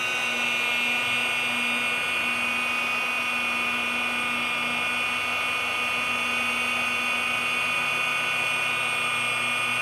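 A rotary polisher runs continuously on car paint, a steady loud whine with a constant motor hum throughout, close by and with no talking.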